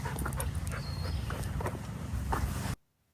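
A dog on a walk during a camping trip pants and whimpers close by over steady outdoor noise, with small yips mixed in, before cutting off abruptly to near silence.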